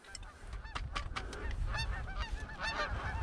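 Canada geese honk repeatedly as a flock comes down to land, a chorus of overlapping calls at moderate distance over low wind rumble.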